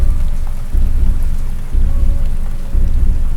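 Heavy rain pours down steadily while thunder rumbles in deep, rolling swells, loud and continuous with no voices.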